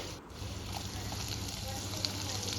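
Urad dal and freshly washed curry leaves sizzle in hot oil, a steady, fairly quiet crackling hiss that runs throughout with no pause.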